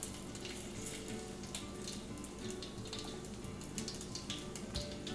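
Dry red chilies frying in hot tadka oil, giving a steady close sizzle and crackle that continues throughout with no talking.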